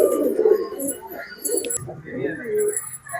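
Racing pigeons at a loft in Nagercoil coo in soft, repeated low pulses, with small chirps from other birds and people talking nearby over them.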